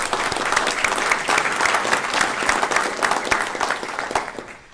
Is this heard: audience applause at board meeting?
yes